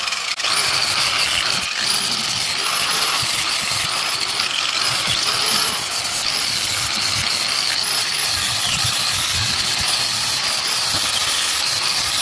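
Rust-Oleum rust reformer sprayed from a can onto a steel hitch receiver, a steady close hiss running nearly unbroken throughout with slight fluctuations.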